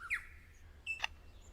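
A lyrebird in the jungle gives brief, faint chirps, then a quick sharp click-like burst that imitates a camera shutter, over quiet low forest hum.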